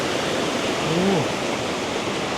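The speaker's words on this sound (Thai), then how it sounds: "มีน้ำตกด้วย ก็คือเป็นน้ำที่ไหลลงจาก ด้านบนเนาะนี่ด้านหลังเรา" Waterfall water pouring down from above behind a cafe and restaurant in a valley by a stream in Phrae, Thailand, a steady broad rushing wash with a brief faint tonal chirp partway through.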